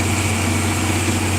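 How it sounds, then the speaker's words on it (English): Steady engine drone from a fertilizer tender truck going past a wheat field during planting, a continuous low rumble with no talk over it. "There goes a fertilizer tender."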